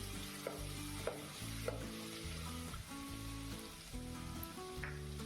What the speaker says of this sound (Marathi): त्यामध्ये आलं लसूणची पेस्ट ती थोडीशी ब्राऊन होईपर्यंत तेलामध्ये तळून घेऊ